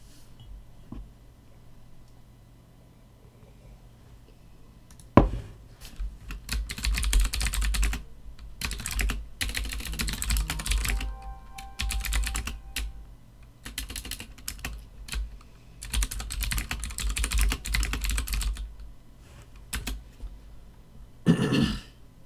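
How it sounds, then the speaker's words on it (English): Computer keyboard typing in steady bursts with short pauses, fairly close and clear, no talking over it, during a live stream. "Better audio on that keyboard."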